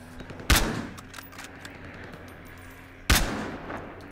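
Two sharp, loud gunshots from a slow-firing weapon in the video game Battlefield Hardline, spaced a few seconds apart over low background game ambience.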